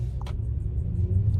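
Mercedes E43 AMG with 4MATIC idling, a steady low engine rumble close by with a brief higher-pitched blip near the start, no voices.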